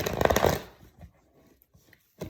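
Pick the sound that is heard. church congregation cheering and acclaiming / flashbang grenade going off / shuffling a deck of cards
shuffling a deck of cards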